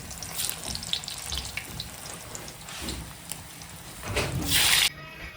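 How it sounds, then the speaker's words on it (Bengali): Cut potatoes frying lightly in hot oil, a soft watery sizzle with scattered crackles that swells briefly louder near the end. "কেটে রাখা আলু তো আলুটা হালকা করে ভেজে নিচ্ছি"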